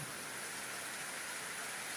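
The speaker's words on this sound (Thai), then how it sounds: "ฝนเริ่ม ตก ลงมา ครับฝนเริ่มตก" Rain falls at night in rural Thailand, a steady, even hiss of drops filling the air without pause, moderately soft and continuous with no voices.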